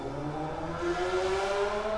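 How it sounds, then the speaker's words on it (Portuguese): A motorcycle passes by outside, its engine droning and rising in pitch as it goes past at a moderate distance, fairly faint and steady. "Pera aí que tá passando uma moto aqui."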